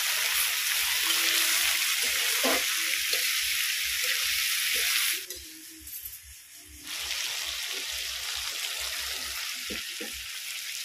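Bitter gourd, chickpeas and tomato frying in a pan for a spicy karela bhujia while being stirred, a steady near sizzle with soft scraping taps that drops briefly when ingredients are added, then resumes.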